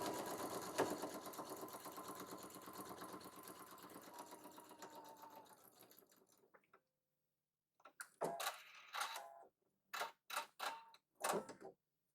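A sewing machine stitches a 1/4 inch seam down a quilt border block, running steadily for about six seconds before fading, then starting again in several short, loud bursts separated by pauses.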